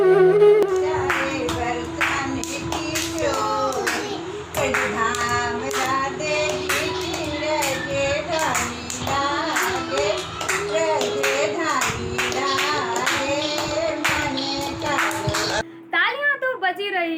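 Clapping at an online children's Navratri garba event, rhythmic hand claps running under singing and music for most of the stretch, then stopping abruptly near the end.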